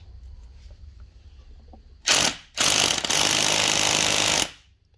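Wrench work on the starter motor bolts of a 1999 Nissan Sentra 1.6 during transmission removal: after quiet shop ambience, a short harsh burst of loud mechanical noise is followed by a longer sustained loud grinding rattle that stops abruptly.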